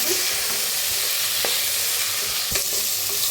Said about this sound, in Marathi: कांदा हिरवी मिरची चांगली भाजायला लागल्या त्याच्यात टाकूया बटाटो करून त्याला मी भाजून घेऊया